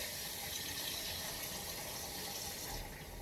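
Water pours from a tap-like stream into a pan of spiced potatoes, giving a continuous close splashing hiss that runs throughout with no talk.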